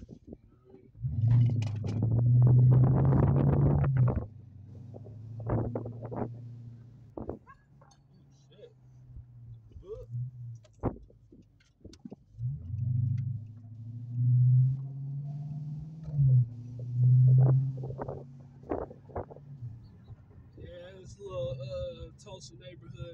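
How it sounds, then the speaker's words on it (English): A 2012 Dodge Charger 5.7 with a modified exhaust heard from inside while driving, deep rumbling revs that swell and fade in two loud bursts, with someone talking between them. "Let you hear that exhaust."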